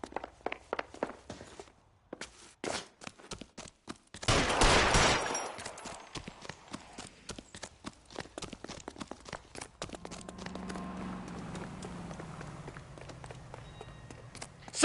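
Gunfire in the game L.A. Noire: scattered sharp shots and footsteps, then a loud burst in the middle that fades into quieter scuffling and rumble.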